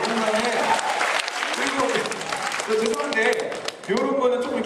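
Audience applause at a department store fan event, a dense, loud wash of clapping mixed with crowd cheers and chatter, briefly dipping near the end before swelling again.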